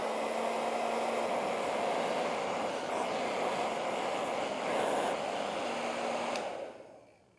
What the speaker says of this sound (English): Now with the heat gun, we can get this done